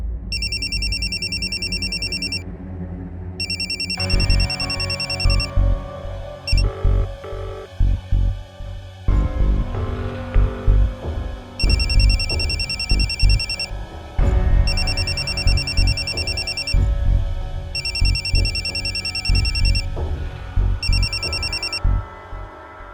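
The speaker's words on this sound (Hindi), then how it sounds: "आपका फोन बज रहा है।" A mobile phone rings with a bright, repeating electronic ringtone in short bursts over dramatic background music in a hospital scene from a TV drama, loud and persistent for most of the stretch.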